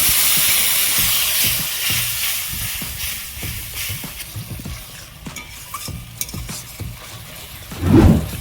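A little water hits spices frying in a pan for a vegetarian dish and bursts into a loud, broad hiss that gradually settles into softer sizzling, with repeated scraping strokes of stirring and a heavier clatter at the end.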